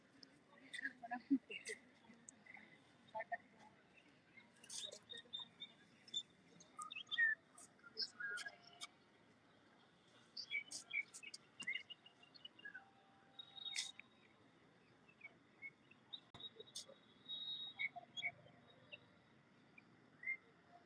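Small birds flit among leaves outdoors, giving scattered faint chirps and short high calls at irregular intervals over a quiet background.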